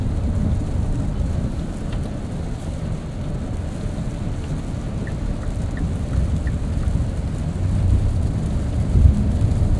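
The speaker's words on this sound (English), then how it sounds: "Close this sunroof right here and a lot of the rain noise goes away." Steady rain drums on the roof of a 2023 Kia Telluride SUV, a dense constant patter with a low rumble underneath, unbroken from start to finish.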